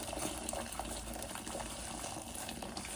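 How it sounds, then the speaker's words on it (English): Boiled water from a kettle is poured in a steady gushing stream, loud and close, with no talking. "So this is boiled water from the kettle."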